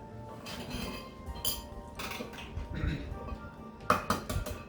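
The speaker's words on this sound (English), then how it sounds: "So what we're going to do now is I'm going to break my eggs in it" Eggs are cracked into a bowl, with several bright clinks and taps of shell against the rim and a final cluster of quick knocks. A voice talks faintly underneath.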